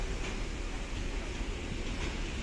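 A train passing through the railway station in Elbląg, Poland, a steady low rumble of rolling wagons with a continuous wash of wheel and track noise, moderately distant and unbroken throughout.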